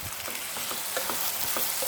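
Finely chopped tomatoes sizzle with a pinch of salt in a pan for spicy prawn gravy, a soft continuous frying hiss broken by light stirring scrapes, close and fairly quiet.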